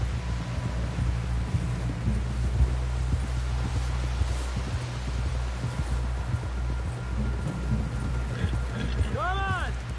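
Horse hooves thud softly in a fast galloping rhythm while riding in a western video game, set beneath a constant low engine-like hum and breezy noise, with a high whistling sweep near the end.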